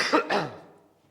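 A teacher with a cold lets out two quick, close coughs and throat-clearing bursts during a chemistry lecture, then the sound fades into a quiet room.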